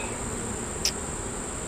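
Honeybees buzz steadily around an open hive during a beekeeping inspection, a soft continuous hum close by with a brief louder pass from one bee midway.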